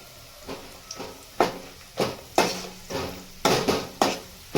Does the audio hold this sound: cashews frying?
yes